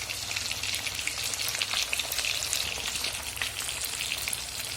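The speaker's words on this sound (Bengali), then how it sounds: "কড়াইতে তেল দিয়ে মাছগুলো ভালো করে ভেজে নেব।" Pomfret fish frying in oil in a kadai, a dense, even crackling hiss that carries on steadily without any voices.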